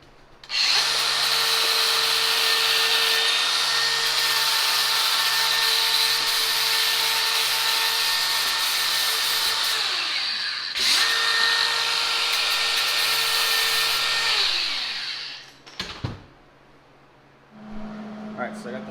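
A power tool grinds paint off metal ahead of welding during a 2-inch body lift on a Subaru Sambar KS4, a loud steady whine running about fifteen seconds with a brief dip partway, then cutting off before a short low hum.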